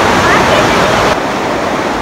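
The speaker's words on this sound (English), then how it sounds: "As you can see, the water current is really fast here." A fast-flowing mountain river near Naran and Kaghan, fed by lake water, rushes in a loud, dense, continuous roar heard up close with no break.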